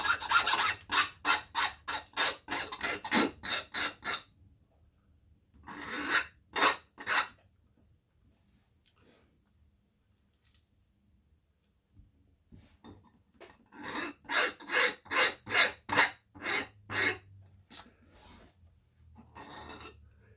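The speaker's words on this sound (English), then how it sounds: "I'll start by cutting the end off of this machine screw and filing the rough end" A metal file rasps across the freshly cut end of a machine screw in rapid bursts of back-and-forth strokes, a quick run of about a dozen, then a few more, a pause, and another rhythmic run, close and fairly quiet.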